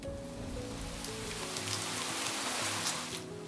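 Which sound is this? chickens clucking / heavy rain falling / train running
heavy rain falling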